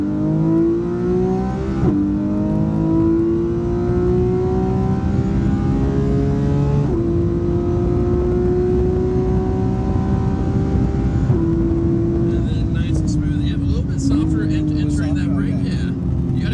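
A car accelerates around a track corner on a driving course after a downshift, its engine droning steadily with rising pitch and gear changes, loud and continuous up close.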